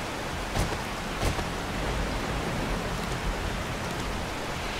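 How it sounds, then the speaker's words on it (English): Steady broadband hiss of a heavy rainstorm in the survival game 7 Days to Die, constant and enveloping, with a couple of brief louder spatters. "This is a rainstorm."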